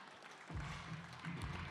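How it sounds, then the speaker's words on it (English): A crowd applauds the two main event fighters in the cage after five championship rounds of mixed martial arts. The applause swells after a short quiet start and holds as a steady, dense roar for under two seconds. "Ladies and gentlemen, a big round of applause, please, for both of your main event fighters in this cage."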